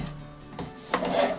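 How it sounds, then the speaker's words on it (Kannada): Pressure cooker lid being shut over rice for egg biryani in a home kitchen: a short scraping rub, then a firmer clack of the lid seating, close and moderately loud, with no talking. "ಕುಕ್ಕರ್ ಮುಚ್ಚಿಬಿಟ್ರೆ"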